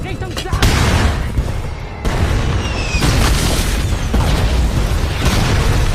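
Loud, dense gunfire and booming blasts from a war film sequence with enemy guns firing, forming continuous rapid bursts that briefly dip before resuming at full intensity.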